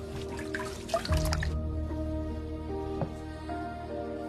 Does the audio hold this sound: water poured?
yes